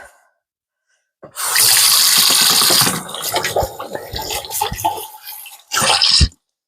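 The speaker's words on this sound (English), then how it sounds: "Let me rinse my hands." Running water from a kitchen tap as hands are rinsed, a loud steady gush with splashing and changing flow, then a brief break before a second short burst of water.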